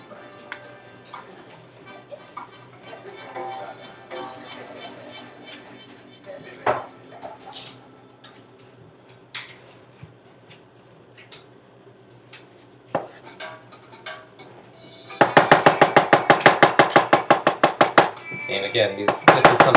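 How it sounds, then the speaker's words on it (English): Mushrooms are chopped with a knife on a board in a home kitchen, where quiet clinks and scattered taps give way to a fast, loud run of rhythmic chops close by near the end. Some talk can be heard underneath. "I really enjoy chopping mushrooms."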